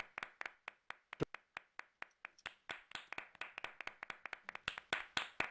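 Scattered hand claps from a virtual audience in Riftmax Theater, a sparse quiet patter that thickens into a busier, overlapping round of clapping.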